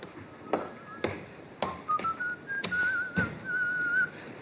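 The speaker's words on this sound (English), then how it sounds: "that fella there, whistling" A man whistles a wavering tune, with several sharp taps or knocks sounding intermittently alongside it.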